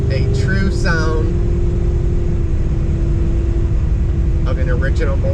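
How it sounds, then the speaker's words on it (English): 1968 Dodge Super Bee with its original Mopar engine driving, a loud steady low rumble throughout, with brief speech near the start and end. "This is a true sound"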